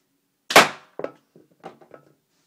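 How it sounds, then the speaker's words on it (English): Slingshot shots striking paper targets: one sharp loud crack followed by several fainter snapping impacts spaced about half a second apart, close and alone. "let's shoot some papers."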